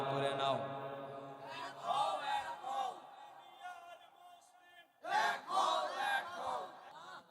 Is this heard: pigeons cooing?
no